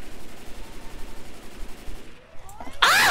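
Rapid video game gunfire in Left 4 Dead 2, a steady stream of muffled automatic shots through most of the moment, then a sharp loud burst at the very end.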